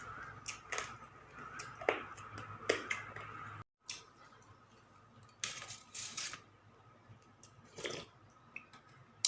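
Close, crunchy chewing of cooked rat snake bones in Thai-style soup, irregular cracks and wet squelches repeating over several seconds, quiet and near, with no talk.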